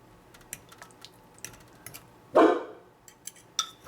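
A dog gives one loud, sharp bark nearby, set among faint clicking and tapping sounds; the dog barks at passersby on the street.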